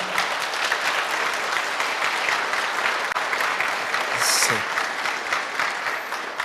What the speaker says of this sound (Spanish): Vamos a recibir al coro Nueva Alegría con fuertes aplausos